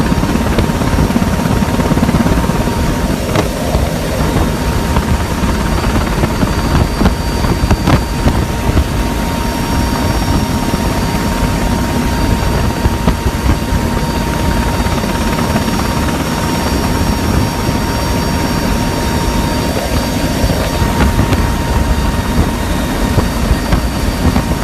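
A helicopter roars loud and constant throughout, its steady rotor drone and engine whine filling the clip with no letup, as it makes an unsuccessful attempt to refuel.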